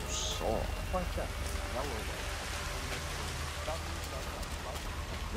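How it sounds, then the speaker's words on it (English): Steady, dense rain hiss from the video game Hitman 3, Chongqing level, fills the whole clip at moderate volume, with faint voice-like tones surfacing briefly underneath. "Rain, rain, nothing but rain."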